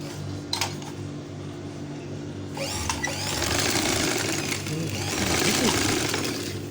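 A stitching machine is started for a test run, with a steady mechanical whir and rapid needle rattle growing louder partway through, heard close up under a woman's speech.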